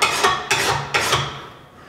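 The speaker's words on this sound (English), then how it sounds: "Now I'll just take a file I'm gonna go flip the blade over. I'm just gonna run it across the batch and just knock off the burr" A hand file makes quick rasping strokes across a Gravely mower blade to knock off the burr, about four short scrapes in an even rhythm, close and clear, ending in quiet.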